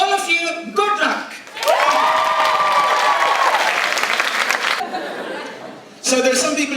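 An audience applauds the participants of a poetry slam. A presenter speaks, then a burst of clapping and light laughter fills the room for a few seconds before talk resumes.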